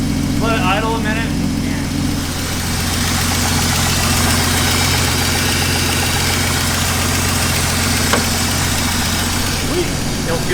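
A BMW E36's engine idles with a steady, loud low rumble and even vibration throughout, and a voice briefly speaks early on over the constant drone.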